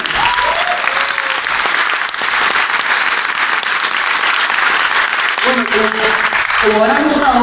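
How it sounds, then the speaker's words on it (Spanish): Audience at a Spanish-language talk applauding in a dense, sustained burst of clapping, with a voice speaking over the applause toward the end. "Por favor, un fuertísimo aplauso para todos los presentes."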